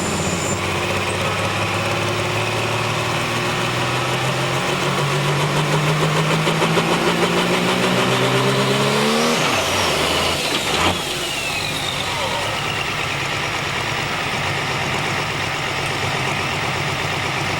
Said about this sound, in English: These Pro Stock tractors build incredible boost pressure.